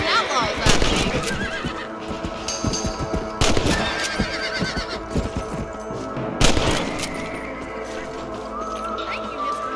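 Horses whinny and neigh in the Red Dead Redemption video game, with clip-clop hooves and a few booming gunshots, while voices talk over the mix.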